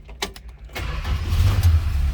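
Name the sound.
1966 Dodge Dart 225 slant six engine starting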